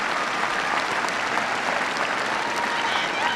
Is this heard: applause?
yes